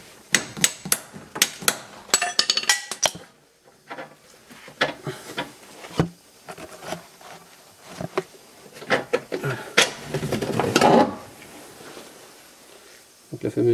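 A hammer taps a suspension bolt while front lower control arms are replaced on a Mercedes, giving a quick, uneven run of close metallic taps and clatter, with someone talking over it.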